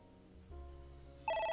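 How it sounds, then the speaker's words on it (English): A telephone rings in the video game AI: The Somnium Files, starting after a low hum and a brief tone shift, then a bright electronic ring that rises sharply and sounds clearly near the end. "Phone's going off again. It's ringing again."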